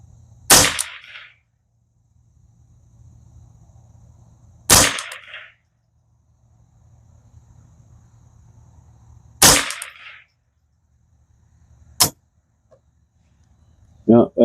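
Custom Ruger 10/22 rifle firing .22 ammunition outdoors: three loud, sharp single shots spaced about five seconds apart, each with a short ringing tail, followed by a quicker, lighter crack and a final pop near the end.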